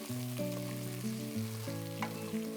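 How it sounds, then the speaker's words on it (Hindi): Chopped tomato and onion fry with curry leaves while being stirred, a soft sizzle running beneath louder melodic background music. "तो चलिए अब जब तक ये टमाटर और प्याज अच्छे से पक नहीं जाता, इसे थोड़ा सा हम चलाते हैं और पकने देते हैं"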